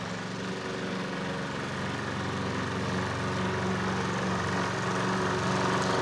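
A very loud strimmer (weed-eater) runs steadily near a Friesian horse, its dense engine whine holding at an even level throughout without pause.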